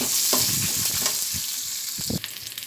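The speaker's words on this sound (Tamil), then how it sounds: "வெங்காயம் சேர்த்துடலாம், அது நல்லா வதக்கணும்." Onions sauté in a pan for Tamil-style seasoned curd rice, a continuous bright sizzle with a few stirring scrapes of a spoon, close and alone.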